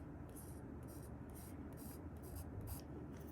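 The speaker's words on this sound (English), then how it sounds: "It writes very smoothly." Fountain pen nib writing on paper, newly repaired, making a soft steady scratching with rhythmic strokes, close and faint, alone.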